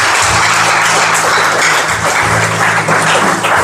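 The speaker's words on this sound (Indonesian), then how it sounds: "berikan tepuk tangan yang luar biasa" Sustained applause from a congregation at a prison church service, steady and dense throughout with a low hum beneath, no break in the clapping.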